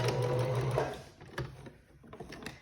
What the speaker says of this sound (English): put my needle down in my fabric. I'm going to back stitch and go all the way to the end and back stitch.